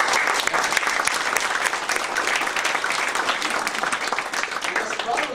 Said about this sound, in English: Shall we give a big round of applause?